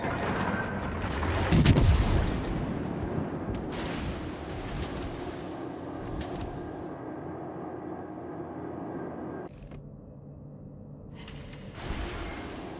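Battleship gun salvos in World of Warships Legends boom out in a loud blast, followed by sustained rumbling and rolling battle noise with further sharp reports over roughly thirteen seconds.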